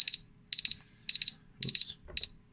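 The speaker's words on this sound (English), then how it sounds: "It's a timer." An electronic timer goes off indoors, sounding five evenly spaced bursts of two or three rapid high beeps, loud and close, with a faint thump between them.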